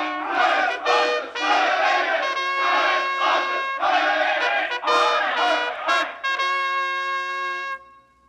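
Crowd of soldiers roaring and cheering in a staged Shakespeare drama, sustained loud group shouts in several surging waves with brief breaks between them, then cutting off.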